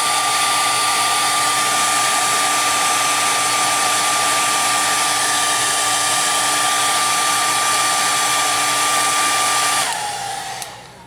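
A hair dryer blows steadily for about ten seconds, warming the fresh clear coat on a Tamiya Ferrari SF70H model car, then switches off and winds down.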